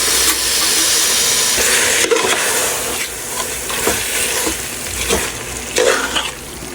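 Washed mutton sizzles and hisses steadily in a hot pan, with occasional clatters of stirring and bursts of steam throughout.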